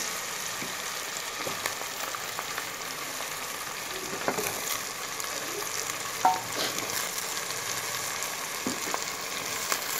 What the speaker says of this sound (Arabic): هنزل بقى الأرنبيط